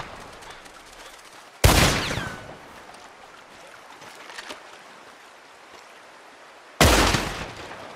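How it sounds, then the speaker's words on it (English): Two sharp, loud gunshots about five seconds apart fired at a lock in the western video game Red Dead Redemption 2, each a sudden crack with a short decaying tail over a steady outdoor ambience with flowing water. "That lock should shoot off easy enough"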